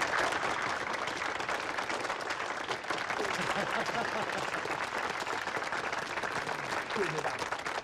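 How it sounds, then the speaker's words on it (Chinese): Workers at a steel plant and mine break into sustained applause, a dense, even wash of many hands clapping for several seconds, filling a hall, with a few voices mixed in. "我觉得此处可以有掌声。"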